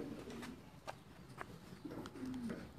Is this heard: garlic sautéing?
no